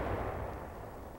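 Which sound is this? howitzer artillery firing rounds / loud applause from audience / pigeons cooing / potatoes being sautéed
howitzer artillery firing rounds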